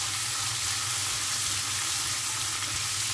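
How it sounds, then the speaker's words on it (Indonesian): Steady loud sizzling of mustard greens and mushrooms being stir-fried in a hot pan, a continuous hiss with faint stirring underneath and no talking. "Kita tumis."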